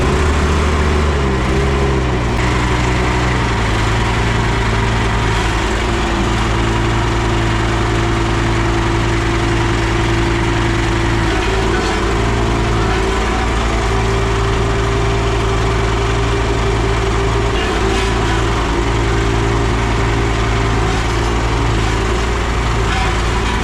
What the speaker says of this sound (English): crank this thing, you have to come up here and pull this choke manually.